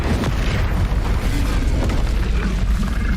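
The Incendio fire spell cast in Hogwarts Legacy, a loud, rumbling burst of fiery roar that fills the whole moment with a heavy, booming low end.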